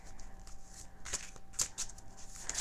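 Tarot cards are shuffled up close in a quiet room, making a series of soft, papery riffling and slapping bursts at irregular intervals with no voice.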